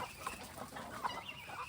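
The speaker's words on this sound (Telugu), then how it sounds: "ఇక్కడ చూసుకోవచ్చు మన కోళ్ళు, పెట్టెలు, పుంజులు." Hens and roosters in a country chicken shed give scattered soft clucks and short calls over low background noise, with no talking.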